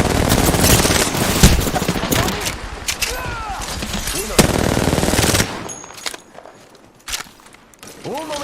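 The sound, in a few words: gunfire in the video game Apex Legends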